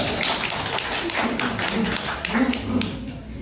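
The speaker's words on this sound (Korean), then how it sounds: "박수 한번." Audience applause at a blockchain platform meetup, a dense wash of many hands clapping steadily for about three seconds, with faint voices murmuring underneath.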